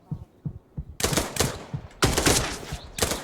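Several frag grenades explode in the video game Dagger Directive, with soft muffled thumps giving way to three loud, bright blasts about a second apart, each trailing into a rough rumbling decay.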